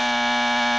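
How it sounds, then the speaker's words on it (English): A comedy sound effect of an anteater clearing its nose: a short, loud, buzzing honk held steadily for under a second, alone with no other sounds. "That's an anteater clearing out its nose."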